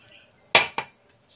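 A cup of sugar goes into yogurt for homemade strawberry yogurt, landing with two quick, fairly loud clinking thuds close by, the second one lighter, with quiet around them.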